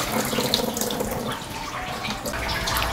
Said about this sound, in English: go to your sink and pour it all out.